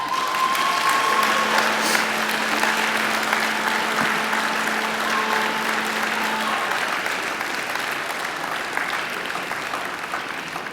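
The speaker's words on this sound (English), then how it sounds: "And now I invite you to give them a mighty round of applause." University graduates at a graduation ceremony applaud their families and friends, a large hall full of sustained clapping that fades slightly toward the end, with a brief tone heard early on.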